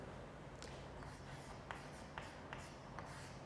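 A chapter name being written by hand, faint scratchy strokes and light taps spaced through a quiet, steady background hiss, with no talking.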